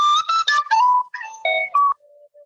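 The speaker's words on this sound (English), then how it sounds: "So I actually play penny whistle." Penny whistle played live over a video call: a short run of clear, bright notes in a quick melodic phrase, ending on a soft sustained tone, loud and close with no talk.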